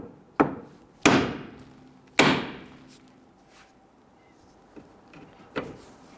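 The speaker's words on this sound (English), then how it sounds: "You're going to go ahead and strike the knuckle." Three sharp metallic hammer blows strike the steering knuckle of a 2011-2021 Jeep Grand Cherokee to pop the tie rod end loose, each ringing briefly, followed by a few lighter knocks, close and loud with no talking.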